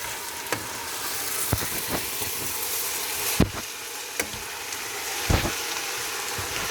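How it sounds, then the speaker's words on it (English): Noodles and vegetables sizzle steadily in a hot pan while stir-frying chicken lo mein, a continuous close frying hiss broken by occasional sharp clacks of a utensil against the pan. "add the noodles, bring all the flavor together, and keep the vegetables also cooking"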